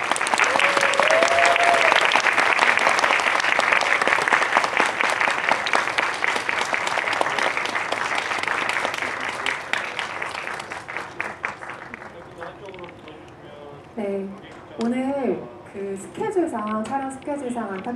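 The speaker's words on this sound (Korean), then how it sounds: "관객 여러분들 만나 뵙기 위해서 단걸음에 오신 만큼 큰 박수로 오늘의 게스트들을 따뜻하게 환영해 주시기 바랍니다" Big audience applause welcoming director Kim Jee-woon and the cast of the film Cobweb at a screening Q&A, loud and sustained at first, then thinning out as a host's voice takes over.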